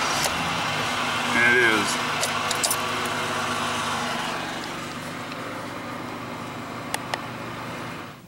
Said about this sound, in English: when we start the truck up